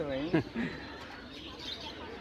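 Pigeons coo at an open-air pigeon market in Fatullah, Bangladesh, a few low throaty calls near the start, then a busy background of crowd murmur and market chatter with voices talking throughout.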